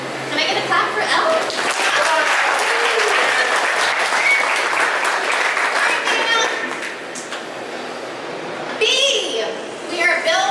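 An office audience at a company values presentation claps for a colleague, a strong, sustained round of applause with voices mixed through it, easing briefly before a livelier flurry near the end.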